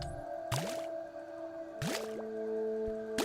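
Water dispenser in the game Grounded: water comes out in three separate splashy drips or plops, spaced about a second apart, over a humming background tone.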